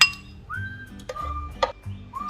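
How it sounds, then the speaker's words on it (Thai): Sago in coconut cream being scooped into a serving bowl, with a few light clinks of spoon against dish and soft scraping, close and quiet with faint background tones, and no talking. "เราก็ตักสาคู ใส่ถ้วยนะคะ"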